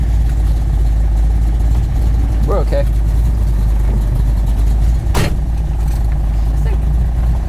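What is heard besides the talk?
1969 Chevelle idling with MagnaFlow exhaust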